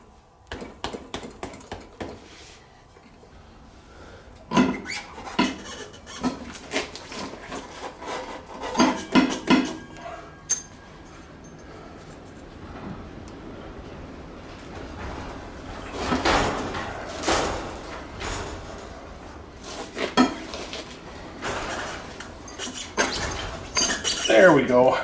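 Repeated hits on a Kawasaki Vulcan 1600 Classic motorcycle rear tire to work it off the final drive splines, irregular knocks and scraping thuds that come in bursts with pauses between them, close and moderately loud.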